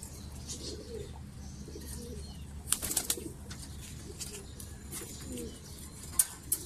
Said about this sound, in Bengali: এখন আমরা একটা পাক্কাটা কবুতর দিয়ে আপনাদের দেখাবো কিভাবে সে কবুতরটা ঢুকে